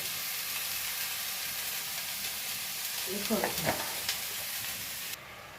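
Beetroot and carrot pieces fry together in a pan as part of a vegetable dish, giving a faint steady sizzle with a few soft stirring scrapes near the end.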